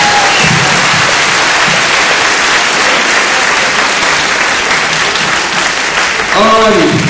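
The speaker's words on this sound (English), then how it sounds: "can we please give a round of applause to all the performers who came here today?" Loud, dense applause and crowd noise from a school audience at a high school talent quest drum-off, filling the room continuously, with a voice briefly heard over it near the end.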